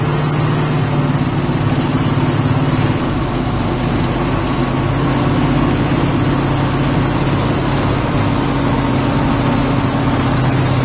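Idling 1971 Chevrolet pickup truck engine, a steady low rumble heard up close on its own, with a slight shift in tone partway through and no voices.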